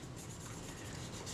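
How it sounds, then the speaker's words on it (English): Cotton bud soaked in naphtha rubbed over the outside of a Kodak Retina IIIc camera, a soft, faint continuous scrubbing close by. "I'm just using some naphtha on a cotton bud. First I'm just going to clean the outside down to remove any loose dust"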